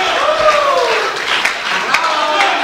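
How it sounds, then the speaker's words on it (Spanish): A church congregation applauds during an evangelical service in Newark, New Jersey: a steady, moderately loud patter of clapping with a few sharp accents, while sustained voices and cheers run over it. "Dale un aplauso largo a Cristo"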